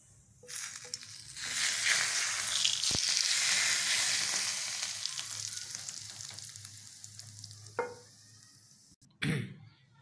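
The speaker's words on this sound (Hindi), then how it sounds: "जो जीरे का तड़का लगाया था हमने वो डाल लेंगे" Hot oil with cumin seeds sizzles and crackles steadily in a pan for several seconds while making dal palak, with a few sharp clinks of a utensil and a final clatter near the end.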